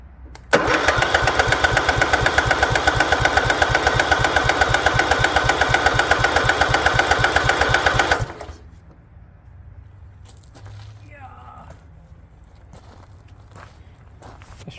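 A goat-trampled Craftsman lawn tractor engine cranks in a fast, steady, loud chugging rhythm for about eight seconds, then cuts off, leaving quiet rustling nearby.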